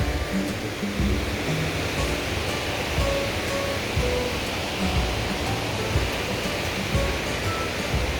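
Khlong waterfall on Ko Chang, swollen after rain, pours with a loud, constant rushing roar close by, unbroken for the whole stretch with no speech.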